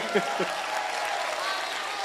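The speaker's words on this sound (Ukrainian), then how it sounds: "Дайте Богу оплески." A church congregation at a pastors' prayer gathering applauds God, a sustained wash of clapping with a couple of brief vocal sounds near the start.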